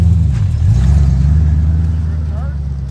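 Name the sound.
car drifting in a circle, engine revving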